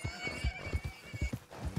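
Horse in Red Dead Redemption 2 whinnies loudly and close, its neigh running over steady clip-clopping hooves, with a gruff voice briefly underneath.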